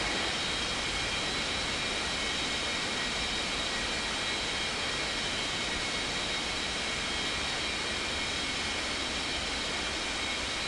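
An Air India Boeing 747 roars steadily on a runway at takeoff, a broad, unbroken jet rumble lasting throughout.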